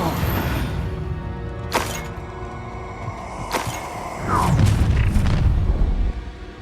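Confringo spell blasts in the Hogwarts Legacy video game: a few sharp booming impacts over a busy, noisy battle bed, with a heavier rumbling burst near the end.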